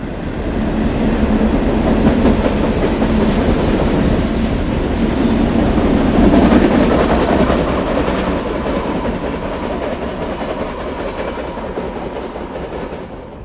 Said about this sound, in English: Train 117 enters the cut from the east.